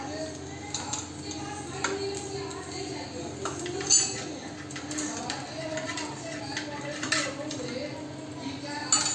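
Raw rice stirred with ghee in a pan over a raised flame, a ladle or spoon clinking and scraping against the metal in irregular strokes, with a faint voice in the background.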